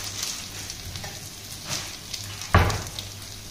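Fenugreek (methi) frying in a pan for prawn curry, a soft continuous sizzle with faint stirring scrapes and one brief louder clatter near the end.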